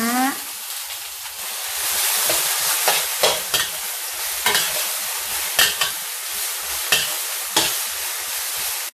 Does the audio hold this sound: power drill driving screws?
no